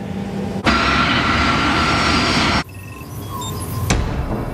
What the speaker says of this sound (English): As the aircraft approach the runway,